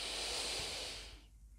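One long, close, hissing inhalation through the mouth while preparing for a breath hold, steady and breathy, fading out into quiet at the end.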